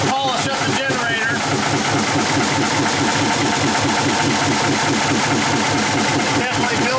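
Diesel engine of a 1953 GE locomotive running after sitting idle since 1998, a loud continuous rhythmic chugging throughout with nearby voices over it.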